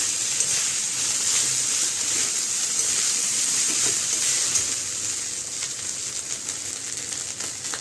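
Basmati rice and mushrooms sizzle and hiss steadily in a hot pan over high flame for fried rice, a continuous close frying sound with no talk.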